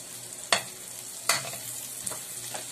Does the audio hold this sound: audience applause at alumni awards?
no